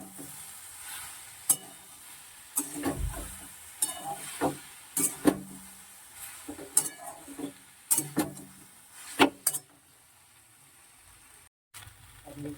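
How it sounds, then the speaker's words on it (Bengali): Pieces of elephant apple (chalta) fry in a little oil in a wok, a soft sizzle under repeated sharp scrapes and clanks of a spatula against the metal, close and irregular, then fading near the end. "কড়াই অল্প তেল দিয়ে চালতাগুলো দিয়ে দিয়েছি"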